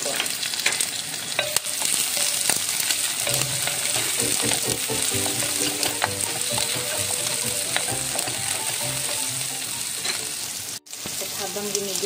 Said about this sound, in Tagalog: At habang ginigisa natin yung ulo ng hipon